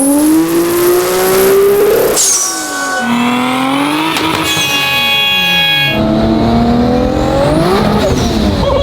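A 1500hp Dodge Dart with a 3.2L 2JZ stroker engine on 40 psi of boost accelerates hard, loud and close, its engine note climbing through several gear pulls with brief dips at the shifts and faint tire noise.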